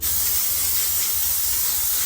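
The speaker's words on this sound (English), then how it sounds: "I just spray it with olive oil on the bottom side with the tiny bubbles" Olive oil sprayed from a can onto thin crust pizza dough gives a loud, close, continuous hiss that runs steadily throughout.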